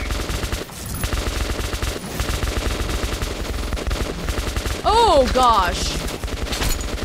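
Rapid gunfire bursts from a Metro 2033 Redux shootout in underground post-apocalyptic Moscow, dense and continuous across the clip with loud swells, overlaid by a brief startled spoken exclamation and other chaotic game sounds.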